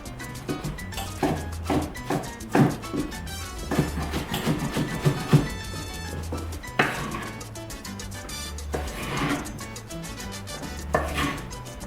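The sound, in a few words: knife dicing a tomato into cubes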